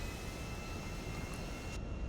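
A steady, droning airplane engine hum from an in-flight plane in GTA V fills the whole stretch, constant and fairly loud with no talk over it.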